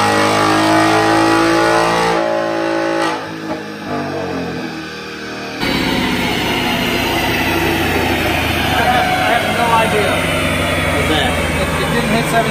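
A 2018-2019 Ford Mustang GT on a dyno revving loud and close, climbing in pitch, dropping off briefly, then roaring back to a sustained high-rpm pull.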